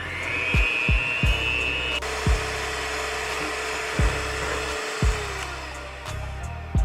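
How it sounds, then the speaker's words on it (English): A hand mixer whirs steadily as it whips a cream of fresh aloe vera and shea butter, its motor drone continuous with a pitch shift partway through and several sharp clacks of the beaters against the bowl. "So now you just want to take your hand mixer and you want to go ahead and mix this up"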